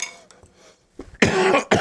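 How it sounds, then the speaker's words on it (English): A single person coughs: a couple of faint throat sounds first, then two loud, harsh, close coughs in quick succession. "Oh man, I haven't even hardly coughed all day, and all of a sudden, here we go."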